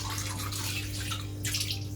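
Water pours steadily from a tap into a planted goldfish aquarium tank during a fill test, a close, continuous splashing and rushing with a constant low hum behind it.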